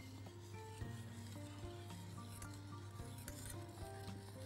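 Chocolate pudding is stirred in a pot as it thickens, with a soft continuous scraping and rubbing over a steady low hum, no talking.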